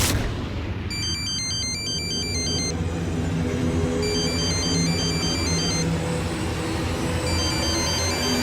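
A melodic phone ringtone plays in repeating bursts of tones over a loud, rumbling background, with no voices.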